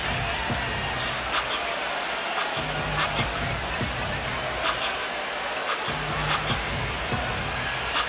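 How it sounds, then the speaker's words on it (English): An NBA basketball arena crowd reacts to a heated on-court moment with a sustained roar of boos and shouting, steady and loud throughout, with faint sneaker squeaks and a commentator talking over it. "Crowd doesn't like what they're seeing."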